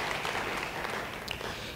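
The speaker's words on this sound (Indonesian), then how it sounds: "Beri tepuk tangan bagi dia." A church congregation claps continuously during a worship service, a dense, steady wash of applause that fills the space with no clear pauses.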